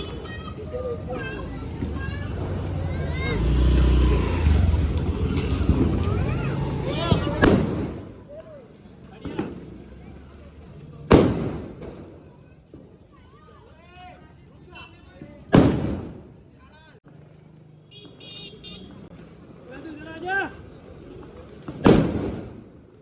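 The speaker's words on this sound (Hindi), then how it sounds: "बड़े वाले फटाके फूट रहे हैं." Big firecrackers bursting during Diwali celebrations, several loud sharp booms spaced through the clip, heard close and under lively chatter and children's voices.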